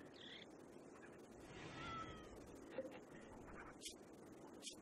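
A cat meows in the colony-building video game Rimworld: a faint, drawn-out call among soft game ambience and scattered clicks, with no one talking.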